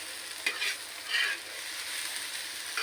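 Okra (bhindi) frying in a pan, a faint steady sizzle with a few quick scraping stirs of a spatula, no voices.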